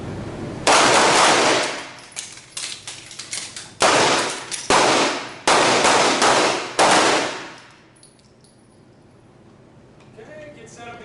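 Handgun shots fired at a target during a night shooting drill on a range, several loud, sharp reports in clustered bursts with a pause between, ringing out close and then fading into quiet.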